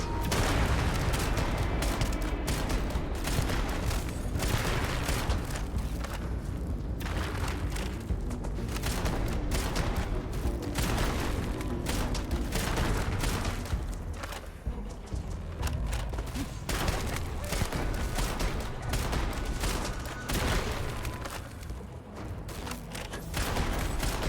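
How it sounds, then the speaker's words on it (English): Gunfire in Starfield combat, dense repeated shots and thuds at steady loudness throughout, with occasional game sounds layered in. "There was someone shooting me."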